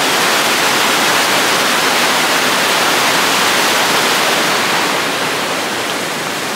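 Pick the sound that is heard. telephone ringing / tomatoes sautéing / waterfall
waterfall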